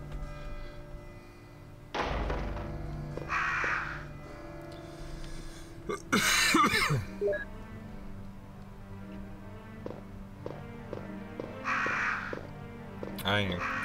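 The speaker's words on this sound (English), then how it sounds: "I ain't fucking with these crows" Crows cawing in the 1996 Resident Evil director's cut video game: short bursts of harsh cawing that recur several times, mixed with dull thumps and game sounds, while a person talks over it.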